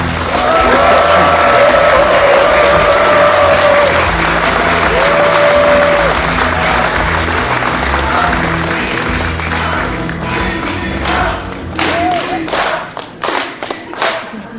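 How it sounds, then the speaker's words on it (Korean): A large audience gives loud, sustained applause welcoming Prime Minister Kim Min-seok to a public event in Jeonbuk, with a voice carrying over it early on. The clapping breaks into scattered, separate claps as it dies away. "김민석 총리님을 큰 박수로 모시겠습니다"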